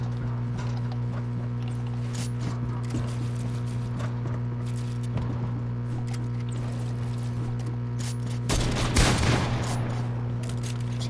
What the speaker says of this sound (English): Why do you have to use a minigun the whole game?